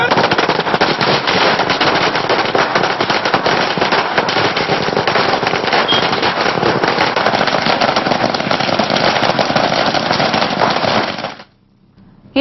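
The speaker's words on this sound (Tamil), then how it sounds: "கேப்டன் விஜயகாந்த் அணி நிர்வாகிகள் பட்டாசு வெடித்து தங்கள் மகிழ்ச்சியை வெளிப்படுத்தினர்." Firecrackers burst continuously at a political celebration in Tamil Nadu, a loud, dense, rapid crackling string of explosions lasting about eleven seconds before stopping abruptly, with no talk over it.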